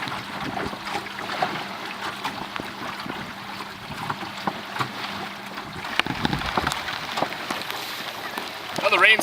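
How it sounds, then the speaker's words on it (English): Steady rain falls around a Beaufort Melonseed sailing boat out on the water, a dense continuous hiss and patter with lapping water, wind rumble and a few louder splashes near the end. "the rain's certainly picked up"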